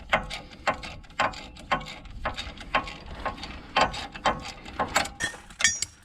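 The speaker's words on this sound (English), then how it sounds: "that gives you a little bit more the area you can take and turn the ratchet" A hand ratchet turns a bolt on the front axle of a 2015 Ram 2500 4x4, making repeated close metallic clicking bursts in an even back-and-forth rhythm, with no talking over it.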